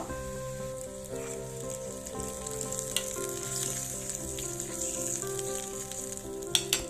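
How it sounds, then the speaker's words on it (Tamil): Kashmiri chili and cumin crackling in hot oil as a tempering for Punjabi dal tadka: a continuous, fairly quiet sizzle with fine popping and spatter, a faint background hum, and two sharp taps near the end. "நம்ம காஷ்மீரி சில்லி இருக்கு, அதை இது சேர்த்திக்குங்க. சேர்த்திட்டு நல்லா கலக்கிக்குங்க"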